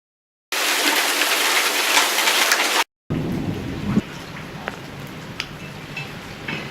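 A burst of steady heavy rainfall, then a cut to rumbling thunder with rain and scattered drips, loud and close; game audio rain effects.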